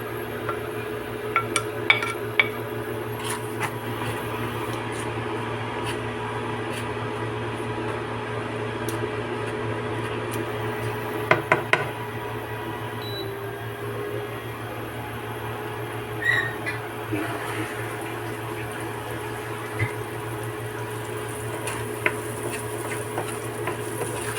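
Garlic fries in leftover cooking oil with a steady low sizzle under a constant hum, punctuated by occasional metallic clinks and scrapes of a utensil against the pan.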